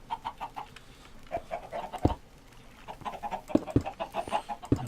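Chickens in Minecraft clucking in short, irregular bursts, fairly faint, with occasional sharper clicks between the clucks and no talk.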